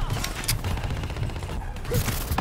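Gunfire in the Black Ops 3 video game, a steady stream of rapid shots and bursts running throughout at fairly close range, with a sense of continuous combat noise.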